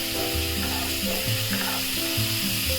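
Spice paste with green chilli, salt, turmeric and cumin powder frying in a pan gives a steady, close hiss of sizzle, with shifting low humming tones underneath for the whole short stretch.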